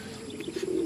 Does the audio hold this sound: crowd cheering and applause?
no